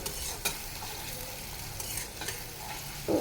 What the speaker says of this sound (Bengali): তো আমি তেলটা গরম করে পেঁয়াজটা দিয়ে দিচ্ছি।